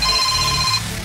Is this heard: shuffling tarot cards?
no